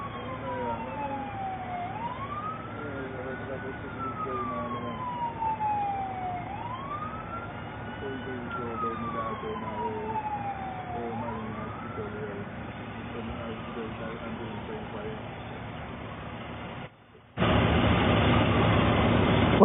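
An ambulance siren wails past in a steady rising and falling cycle over constant road and traffic rumble, moderately loud and alone without talk, before cutting to a sudden louder broadband noise at the very end.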